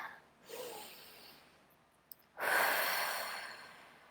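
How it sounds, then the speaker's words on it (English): A slow, deep breath during EFT tapping, drawn in softly and then released in a louder, breathy exhale, close and alone. "take a deep breath"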